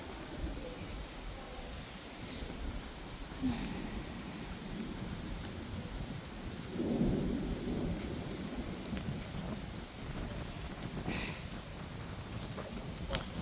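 Steady rain falls outdoors as a broad, even hiss with occasional louder gusts, a distant low rumble and faint voices in the background.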